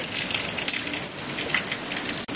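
Heavy rain pours steadily in a continuous loud wash, drumming on surfaces nearby, with no voices.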